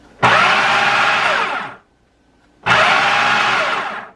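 A food processor blending hummus, two loud sustained motor bursts of about one and a half seconds each, separated by a short silent pause, close and harsh, no voices.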